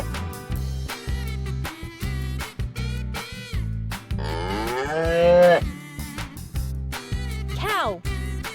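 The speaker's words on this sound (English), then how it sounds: "Cow says moo." A cow moos in a long, loud, drawn-out low call over upbeat children's music with a steady beat, followed by a shorter second moo.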